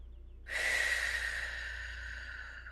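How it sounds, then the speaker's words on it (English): A single slow, breathy inhale or exhale during a guided deep-breathing exercise, soft and close over a low steady hum, with no talking. "Inhaling, filling belly to chest. Exhaling through the mouth."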